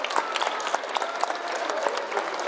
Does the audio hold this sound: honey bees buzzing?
no